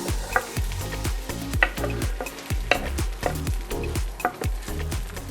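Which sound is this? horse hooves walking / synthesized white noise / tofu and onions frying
tofu and onions frying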